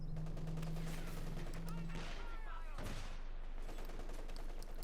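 Gunfire in Company of Heroes 2 pops and cracks in scattered shots amid battle noise, heard under a commentator's steady talk.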